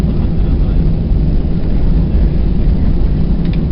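A Cebu Pacific Airbus A320 rolls out after landing at Manila's Ninoy Aquino International Airport, a loud, constant, broad rumbling roar heard from inside the cabin without a break.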